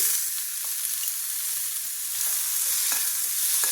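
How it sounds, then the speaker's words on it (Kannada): Tomato and onions frying together in a pan give a steady, continuous sizzle with a few soft stirring clicks, close and even, with no one talking. "ಟೊಮೆಟೊ ಹಣ್ಣು ಒಂದು ಸ್ವಲ್ಪ ಫ್ರೈ ಮಾಡ್ಕೊಳ್ಳೋಣ."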